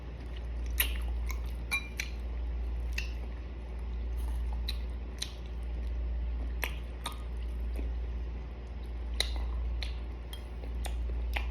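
Close, wet chewing and biting of balut, a boiled fertilized duck egg, with soft smacks and clicks repeating irregularly over a steady low background hum, no talking.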